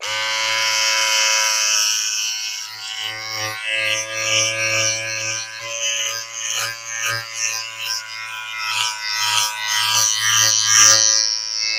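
An electric razor buzzes steadily as it shaves off a beard. The loud, close whine wavers in pitch and loudness as the head moves across the whiskers, and it runs without any talking.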